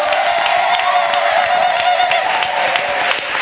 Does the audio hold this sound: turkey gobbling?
no